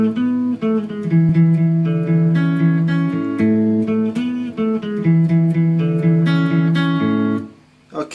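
Guitar plays the intro to a song as a steady sequence of ringing picked notes and chord tones, close and clear, continuing for several seconds before a brief drop near the end.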